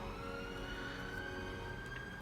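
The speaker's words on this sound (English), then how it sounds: "oh that's an ambulance." An ambulance siren sounding somewhere outside, a steady wailing tone heard faintly at a distance for a couple of seconds, with no voices over it.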